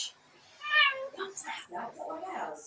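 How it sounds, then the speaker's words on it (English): A cat meows loudly and close in a drawn-out cry, then a few shorter mews follow while people talk in the room during a live football watch stream. "No, it's not our cat."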